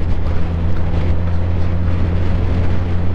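A Suzuki GSX-S1000 motorcycle engine roars through its stock factory exhaust, a loud, dense, continuous low rumble close by with no speech over it.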